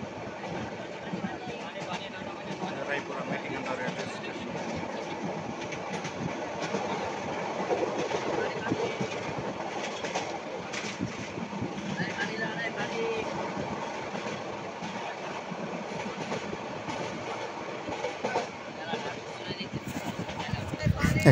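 A train moves through Bhairab Bazar railway junction with a steady rolling rumble and faint clatter of wagons, heard at moderate distance under ongoing speech and station bustle that swells slightly near the end.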